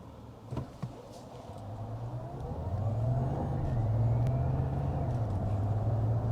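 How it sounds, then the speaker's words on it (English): A 2024 Mazda CX-90 PHEV pulls away on pure electric power, with a rising electric motor whine and growing road and tyre noise building steadily inside the cabin, after a couple of small knocks. "We'll demonstrate how it is to kind of accelerate with it just under the pure electric power."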